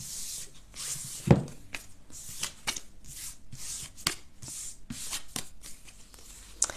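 Tarot cards are slid and gathered across a tabletop to clear space for a love reading, a run of soft papery shuffles and rubs with a few sharper taps, close and fairly quiet, with no talking.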